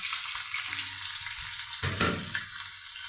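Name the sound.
onion, chillies and curry leaves frying in oil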